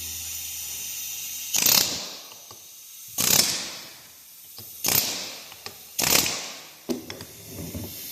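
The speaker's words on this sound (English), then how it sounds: "We're going to hold this right here and hit this with the air hammer." Four loud, sharp bursts of a pneumatic air hammer striking the power steering pump on a 1969 Cadillac DeVille, each lasting a fraction of a second, spaced roughly evenly with a low steady hiss between.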